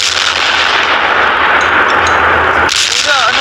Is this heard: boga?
yes